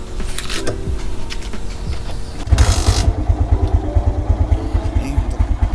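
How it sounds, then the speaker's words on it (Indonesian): A 2006 Suzuki Shogun 125 SP motorcycle with a stock engine being started: an electric-starter whir, then the engine catches and settles into a loud, steady, close idle with a rapid, even pulse. "Oke, saya nyalakan mesinnya."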